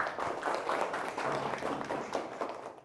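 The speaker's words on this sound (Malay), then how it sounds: "beri tepukan kepada Mr. Pepejal" Students applaud in a classroom during a Form 5 science lesson, a steady patter of many hands clapping at moderate distance for about three seconds, with faint voices mixed in.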